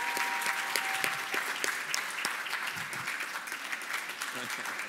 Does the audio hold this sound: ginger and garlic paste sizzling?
no